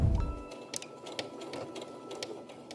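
Sewing machine running along the center front seam of a garment with a half-inch seam allowance, a steady close mechanical whir with light rhythmic ticking, no talk.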